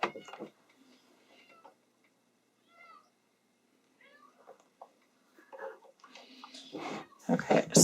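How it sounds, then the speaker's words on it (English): Pet cat meowing in a quiet room, scattered short meows and chirps separated by pauses, growing louder and more frequent toward the end. "My cat's giving his opinions on the whole matter now."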